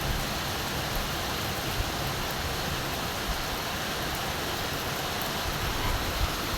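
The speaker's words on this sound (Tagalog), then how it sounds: "Grabe ulan guys." Heavy rain pours down in a dense, steady hiss that fills the whole scene without letup, loud and close, with no voices over it.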